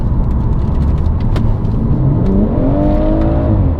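A BMW M140 fitted with a REMUS exhaust, driven in comfort mode, gives a loud, steady engine drone from inside the car, rising smoothly in pitch as it accelerates toward the end.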